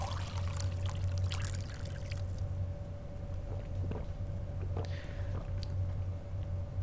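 Water pours from a water dispenser in the video game Fahrenheit, a soft continuous trickle over a steady low hum and faint background tone, with a few small clicks and no speech.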